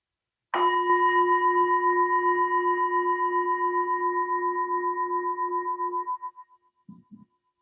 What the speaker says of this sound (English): So as I ring the bell, just make those adjustments inside.